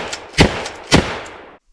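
An antique full-choke 12 gauge shotgun fires two loud, sharp blasts about half a second apart. Each blast is followed by a short fading rumble, and no one speaks.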